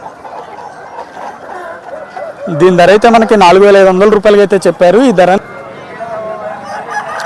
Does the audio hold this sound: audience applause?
no